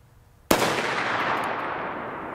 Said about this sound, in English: there's a lot of fire coming out of the end of this barrel